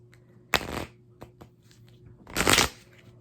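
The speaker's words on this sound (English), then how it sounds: "Saying 2 more shuffles." Two bursts of a deck of cards being riffle-shuffled, each a loud rustling flutter with a few soft taps between, close by in a quiet room.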